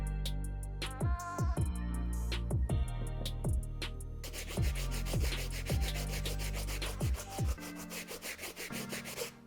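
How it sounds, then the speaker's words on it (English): A stiff bristle brush scrubs the outsole of a white leather low-top sneaker in quick back-and-forth strokes, close and rasping, first in short bursts and then as a denser continuous scrub. "the last thing to clean on this shoe is gonna be the outsole, and I'm gonna do that with our Stiff Bristle Brush."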